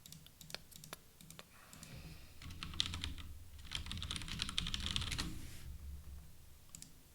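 Rapid keystrokes on a computer keyboard as code is typed, bursts of close, crisp key clicks with brief pauses between runs, fairly quiet overall.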